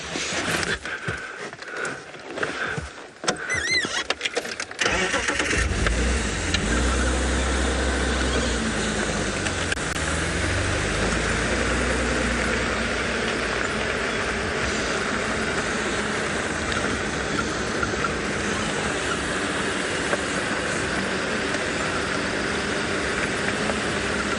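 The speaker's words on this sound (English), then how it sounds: "I want to drive a little bit further forward, get into the shade" A safari vehicle engine starts up after a few seconds of clatter, then drives forward with a steady, close rumble and broad road noise that holds to the end.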